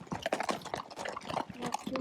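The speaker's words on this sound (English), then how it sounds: "We went out for a walk and horses broke out. Wow, that's a lot of horses." Irregular clopping and shuffling hoofbeats of several loose horses walking close by near Mammoth Lakes, with scattered snorting and a faint voice now and then.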